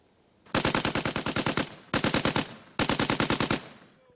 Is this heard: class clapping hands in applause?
no